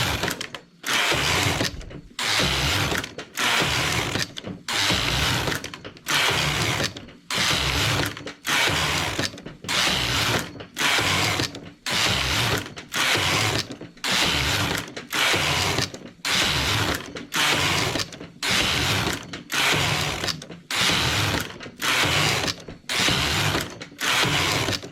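Domestic knitting machine carriage sliding back and forth to knit English rib (half-fisherman) stitches, a loud repeated mechanical rattling pass roughly every second with brief pauses between, steady and close, with no talking.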